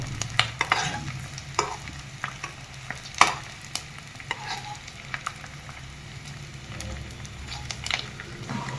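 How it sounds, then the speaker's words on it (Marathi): Edible gum (dink) fries in hot oil for winter laddoos, a steady close sizzle with scattered crackles and a few sharper pops as the pieces puff up, no voices over it. "तर चांगला आतमध्ये पर्यंत तळेल असं तळून घ्यायचं आहे आपण"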